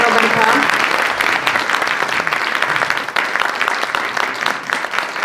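Hall audience claps for honoree Robert Jastrzębski at a Polish blood donation gala, a sustained, even round of applause filling the room, with an announcer's voice partly mixed in.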